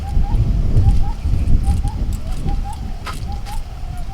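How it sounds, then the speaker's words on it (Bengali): An Asian koel calls in spring, repeating short rising whistled notes at a regular pace. The calls sound somewhat distant over a louder low background rumble of household noise. "এই কোকিল ডাকছে হ্যাঁ।"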